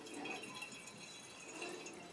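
A litre of liquid film developer chemical poured by hand from a container without a funnel, making a steady close splashing, trickling stream of liquid throughout.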